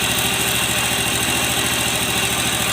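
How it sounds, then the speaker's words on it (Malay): A steady, smooth engine idle at close range after a full restoration, a continuous even hum with a fine regular pulse and no knocks or irregular noises, running alone without talk. "enjin tak ada bunyi pelik-pelik ya. Enjin lembut je"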